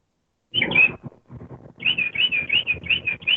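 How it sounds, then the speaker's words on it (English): Birds call loudly outdoors, giving a quick run of sharp, high chirps and whistles that repeat in a fast series, close and clear with no talking. "I don't know what type of birds or hawks or fucking dinosaurs you got over there."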